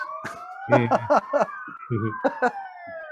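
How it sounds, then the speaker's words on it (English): An ambulance siren wails, sweeping steadily up and down as it passes fairly close in Sydney, with bursts of talk and laughter over it. "what's that? Another ambulance."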